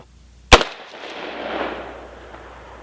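A single sharp, loud shot from an AR pistol firing a 300 AAC Blackout subsonic reload with a 245-grain Missouri Bullet Company lead bullet over 12.3 grains of 1680 powder, its crack followed by a fading rumble.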